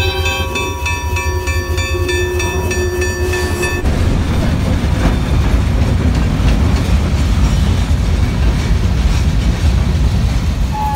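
A loud train rumbles past close by, with steady rolling wheel noise and clatter; a sustained tonal horn-like hum fades out partway through.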